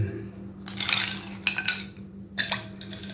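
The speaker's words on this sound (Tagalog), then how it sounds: "Meron tayong ice, lagyan natin yan." Ice cubes drop into a glass of milk for iced coffee, giving a few bright clinks and rattles close by over a low hum.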